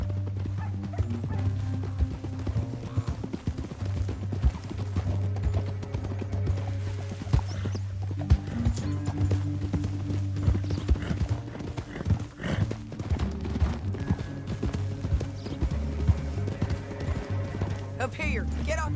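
Horses riding in the Red Dead Redemption 2 video game, a steady run of hoofbeats with a neigh and dog barks, under a continuous music bed and spoken dialogue.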